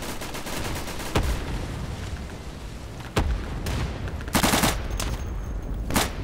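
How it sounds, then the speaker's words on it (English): Mortar rounds land during a battle in the Insurgency mod Day of Infamy: four sharp, loud blasts at irregular intervals over a constant rumble of distant gunfire, with no one speaking. "Just mortars going down everywhere"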